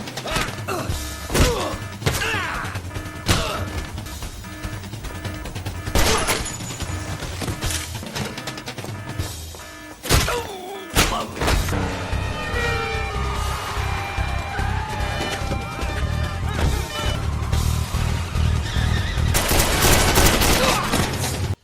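A fierce gunfight in an action movie bank scene, with dense bursts of rapid gunfire, sharp individual shots, thuds and mechanical clatter, loud and sustained throughout.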